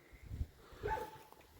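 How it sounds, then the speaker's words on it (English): A farm dog barks at the neighbours with a couple of short, muffled barks, faint and somewhat distant, with low thumps around them. "A dog barking at neighbours."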